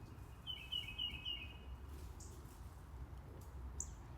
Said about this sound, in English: It's just a bird. It's a red cardinal.